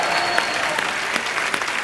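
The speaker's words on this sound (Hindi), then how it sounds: "प्लीज आप लोग तालियां बजा के इनका हौसला बढ़ाइए" Studio audience at a Hindi comedy talk show claps loudly and continuously, a dense, steady wash of many hands with no speech over it.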